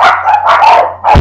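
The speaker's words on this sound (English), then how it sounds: "Dogs, shut up. Oh, yipper, yapper, and yelper." Several dogs bark and yip close by in quick overlapping bursts, loud and continuous with a short gap near the end before another yelp.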